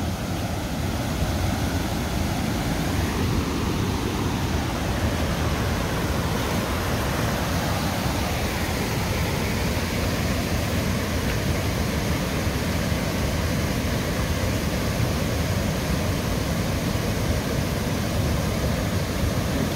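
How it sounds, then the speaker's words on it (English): Floodwater rushes down Cherry Creek in a steady, dense roar, loud and continuous throughout with no pauses or voices. "This is Cherry Creek."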